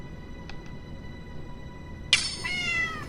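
Tamayo's cat in a Kimetsu no Yaiba Tamagotchi game gives a single loud electronic meow partway through, preceded by two faint beeps over a steady low background hum.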